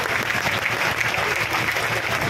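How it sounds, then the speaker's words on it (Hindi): At a farmers' rally, a large outdoor crowd claps vigorously, a dense and steady wall of applause that holds at the same level throughout. "वे भी हमारी माताओं बहनों के लिए 5 सेकंड के लिए जोरदार ताली सारे बजा दे जाओ एक बार।"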